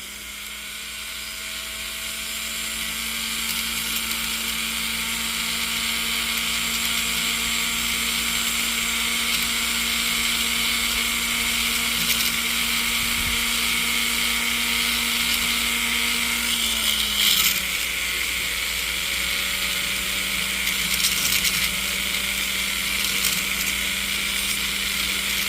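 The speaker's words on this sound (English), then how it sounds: "Let's just use our silicone wheel, kind of" Silicone polishing wheel on a rotary tool cleaning up a welded piece, a steady high-pitched whine that holds for a long stretch and drops slightly in pitch partway as it bears down on the work.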